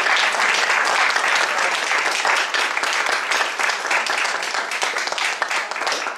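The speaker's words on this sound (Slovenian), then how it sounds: "Še en aplavz, prosim." An audience at an evening awards gathering in a hall gives a steady round of applause, dense clapping from many hands that holds for several seconds and thins slightly toward the end.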